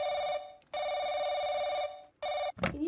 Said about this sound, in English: How do you know the phone was ringing?